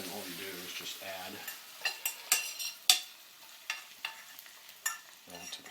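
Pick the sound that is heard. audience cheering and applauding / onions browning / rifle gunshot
onions browning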